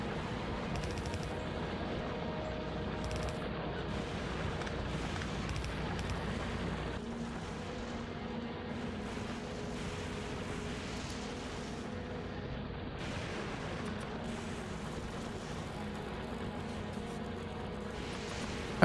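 Small robots blow up in the video game Factorio: Space Age, a steady dense crackle of explosions and rumbling blasts, heavy and unbroken for almost twenty seconds.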